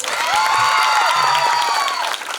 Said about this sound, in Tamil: 2 பேருக்கும் ஒரு நல்ல கைத்தட்டு கொடுங்க.